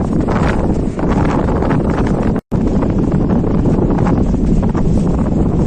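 Loud, steady wind roars and buffets the microphone throughout at a sea beach in Tajpur, broken by one very short cut-out midway. No one speaks.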